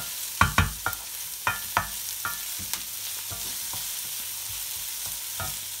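Slit lavangi green chili is sautéed in oil for a cabbage and peas masala, with a clatter of several spoon scrapes and taps over a continuous soft sizzle.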